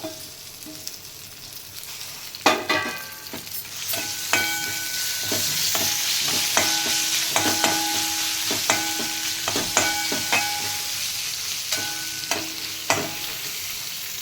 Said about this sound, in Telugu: ఇప్పుడు పచ్చిమిరపకాయలు, కరివేపాకు వేసుకుందాం ఇందులో